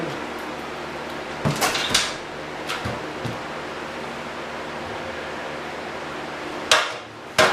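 Scattered hammer blows land close by, a quick cluster of knocks then a few isolated strikes separated by pauses of quiet hum.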